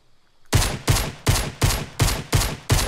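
Gunfire in the video game Fortnite: after a brief quiet moment, seven loud, evenly spaced gunshots ring out in a steady rhythm, each with a short decaying tail.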